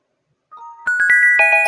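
An alarm clock program written in Python starts playing a song, bright chiming synthesized notes that begin softly and then step into a loud, rhythmic melody, with no talking.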